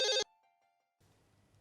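A telephone gives one short, bright ring burst, followed by a faint lingering tone and then quiet low background noise.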